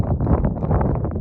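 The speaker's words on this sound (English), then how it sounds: "But it's a little windy." Low, rumbling gusts of wind buffet the microphone in uneven bursts, loud and close, with no other clear sounds.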